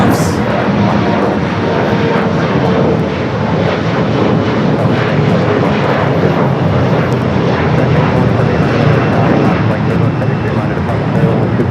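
Airliners departing from Los Angeles International Airport, a heavy jet roar that stays loud and steady throughout, with a broad rumbling wash and no voices.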